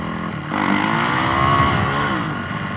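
Yamaha YZ400F dirt bike on a shakedown ride with a freshly scrubbed-in tire, its four-stroke engine revving hard and winding out, a loud buzzing drone with climbing and sliding pitch, close and continuous.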